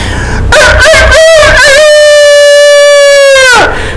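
A rooster crows at dawn: one loud, close cock-a-doodle-doo that starts with choppy notes and stretches into a long sustained call before cutting off.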